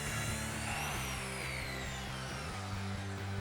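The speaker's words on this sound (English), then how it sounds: "watch as the saw is placed on the guide rail. A straight cut is made." A Festool ATF55 plunge track saw runs along a guide rail making a straight cut, a loud steady motor whine with a low harmonic hum and faint rising and falling tones, no voices.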